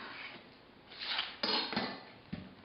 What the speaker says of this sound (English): for an onion, we're just going to cut it in half